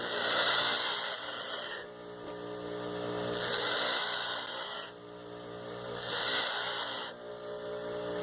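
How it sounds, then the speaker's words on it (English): A twist drill bit rasps against a sharpening stone in three gritty strokes of about two seconds each, with a steady machine hum underneath. "set the bit to the stone and twist and lift and push down on the back of the drill bit"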